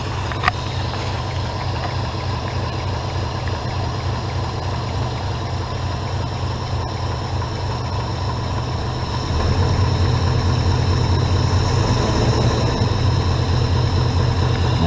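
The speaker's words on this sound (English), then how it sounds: "darn good idle for a cold engine" Cold Mercedes engine with a carburetor and manual choke held on fast idle, a steady low rumbling hum that grows slightly louder and heavier partway through, with no talk.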